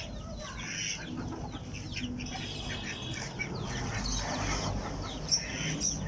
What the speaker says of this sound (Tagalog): Magpapakain na ng manok.